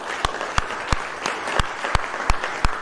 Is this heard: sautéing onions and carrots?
no